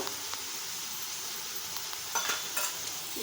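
Ginger garlic paste with turmeric frying in a pan for chicken pulao. A soft, even sizzle runs throughout, broken by a few louder stirring scrapes near the end, with no talking.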